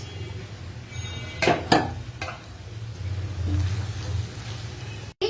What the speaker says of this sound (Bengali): দিয়ে দিচ্ছি কিউব করে কেটে রাখা পেঁয়াজ।